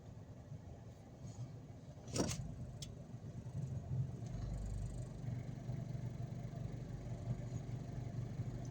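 A car engine idles steadily while warming up, with a low continuous rumble that brightens slightly partway through, plus a brief sharp click early on.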